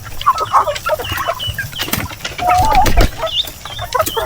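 Heritage and native chickens with Muscovy ducks in a farmyard, busy overlapping clucks and short calls, close and fairly loud, with brief talk in the background.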